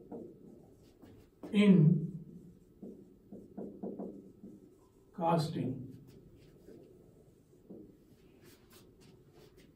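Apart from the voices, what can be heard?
writing a heading on a board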